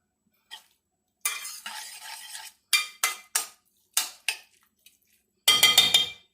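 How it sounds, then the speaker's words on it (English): Butter and sugar being stirred in a pot for shepherd's pie, with separate bursts of a spoon scraping and clinking against the pot, each lasting about a second, between stretches of silence. "So let's stir this butter up in there."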